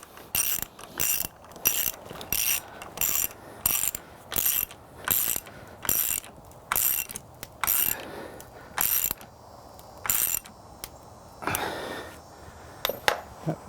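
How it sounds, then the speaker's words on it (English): A ratchet tightens a bolt on a metal forging die, with about fifteen crisp clicking bursts in a quick, regular back-and-forth rhythm, close and clear, separated by short pauses. "Tighten this first bolt up."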